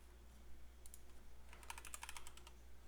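Quick bursts of clicky keystrokes on a computer keyboard, a few isolated taps followed by a denser run of typing, close and fairly quiet against a steady low background hum, with no talking.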